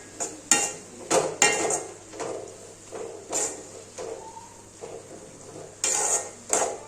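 A spoon scrapes and knocks around a pan while garam masala is mixed into a pasta masala sauce over the stove, with irregular clattering strokes and a faint sizzle underneath.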